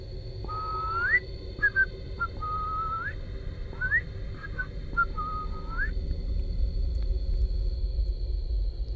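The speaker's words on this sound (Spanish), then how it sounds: "exactamente a las 3:13 oímos el silbido" A mysterious whistle heard at night, a clear human-like tune of several rising and sliding notes lasting a few seconds over a low rumbling background, with no talk.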